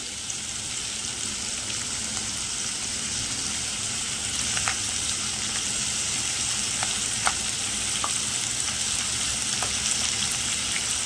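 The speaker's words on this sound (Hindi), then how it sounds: "शिमला मिर्च डालकर इसको अच्छे से चला देंगे।" Chicken and capsicum fry in a hot pan with a loud, constant sizzle, broken by a few soft clicks of a spoon stirring, close up and without speech.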